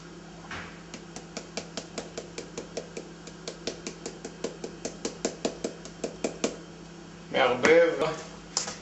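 A spoon clinks steadily against a bowl in a quick, even rhythm for several seconds as a kreplach filling of fried onion, ground meat, salt and black pepper is mixed, ending in a louder clatter.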